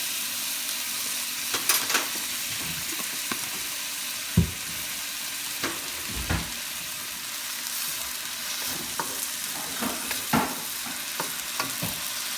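Minced garlic and ginger frying in a pan for a Bicol-style crab dish, a bright continuous sizzle broken by scraping strokes of a spatula and a few louder knocks against the pan.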